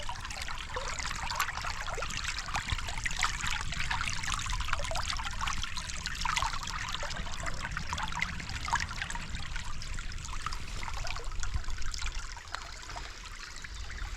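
Water flows and trickles steadily around a waterproof AKU KS Schwer 19 GTX tactical winter boot during a water test, a continuous close rushing wash that eases slightly near the end.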